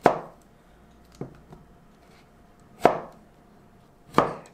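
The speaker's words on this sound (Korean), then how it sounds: "호박을 한번 썰어 볼게요." A knife chops through zucchini on a cutting board, four separate sharp thuds spaced unevenly over a quiet kitchen background.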